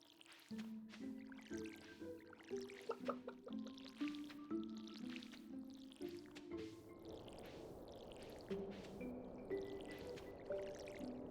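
Stylized watering sounds in Stardew Valley: soft splashing and dripping effects repeat at a gentle pace over light game music, faint and with no talk.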